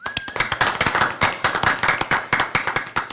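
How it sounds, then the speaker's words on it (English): A smaller group claps at a school board meeting, individual sharp hand claps clearly distinct in a quick, uneven rhythm, fairly close and loud, with a brief tone at the start. "Let's give them a round of applause."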